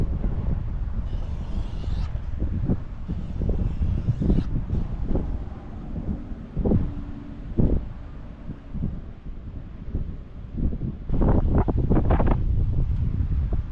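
Strong wind buffets the microphone outdoors in gusty, rumbling bursts, loud and continuous, with occasional thumps and no speech.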